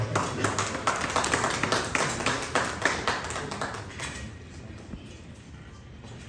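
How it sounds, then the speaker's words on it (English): A crowd claps and taps in a dense patter for about four seconds, then the applause fades to quiet room noise. "can we please give them a round of applause?"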